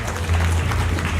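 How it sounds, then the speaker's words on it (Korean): A crowd at a Korean public event gives a steady round of applause, loud and continuous over a low background hum. "큰 박수 부탁드리겠습니다"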